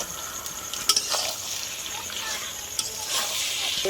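Chicken and fried potatoes stirred together in a frying pan, with a soft sizzle and a few sharp spoon scrapes against the pan, close but fairly quiet, with faint voice-like sounds in the background.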